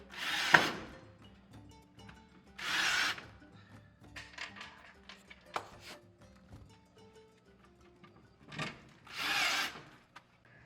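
Several short bursts of a power drill whir at close range, fastening boards into an animal enclosure, separated by quiet handling and light tapping of boards between each fastening.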